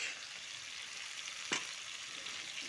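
Broad beans sautéed with garlic, onion and tomato sizzle steadily in a pan, with one brief stir or scrape partway through, faint and continuous.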